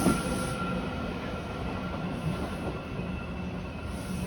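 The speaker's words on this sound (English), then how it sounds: "I can tell it's an eastbound train" An eastbound train rolls past at a suburban street crossing with steady, continuous rail rumble and broadband wheel noise filling the whole stretch, no voices over it.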